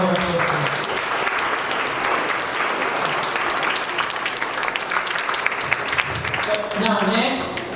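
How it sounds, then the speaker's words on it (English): Dinner fundraiser audience applauding in a sustained, dense round of clapping that fills the room, with voices mixed in near the end. "Let's give them another round of applause."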